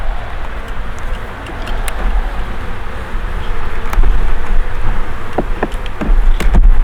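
Dense buzzing of many honeybees at the hive fills the air close by, steady and loud, with occasional clicks and knocks on top.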